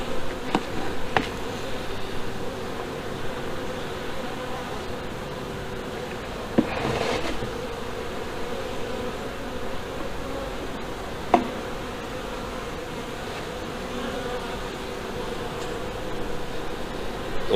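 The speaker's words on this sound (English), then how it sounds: "there's a lot of bees working in it" Honeybees swarm over the candy board of a hive on a farm, a steady close buzzing drone with a few brief clicks and bumps.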